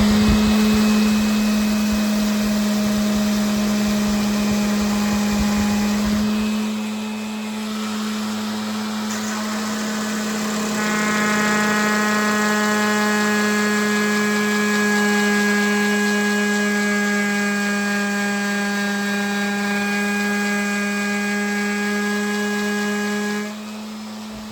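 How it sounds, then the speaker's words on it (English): An electric sander fitted with 80 grit sandpaper grinds steadily against old kitchen furniture woodwork, giving a loud, continuous whining hum that shifts slightly in tone partway through and runs unbroken from start to finish. "I'm starting with 80 grit on my sander, and I'll just see if I can stop at the line."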